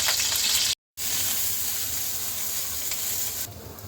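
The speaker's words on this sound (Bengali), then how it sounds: "এবার ফুলকুটিগুলি ভেজে নিচ্ছি" Cauliflower florets frying in hot oil in a pan, giving a loud, steady, close sizzle that cuts out briefly near the start, then continues evenly, with a slight change in texture toward the end.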